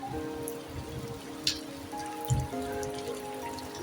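Rain and hail patter steadily on surfaces nearby, with a few sharper drips and knocks standing out against a soft, even background.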